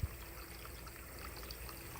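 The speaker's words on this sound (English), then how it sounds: "I got the water coming through" Creek water pours steadily through a makeshift corrugated pipe into a woodland pond, a continuous close trickling and splashing with no talk.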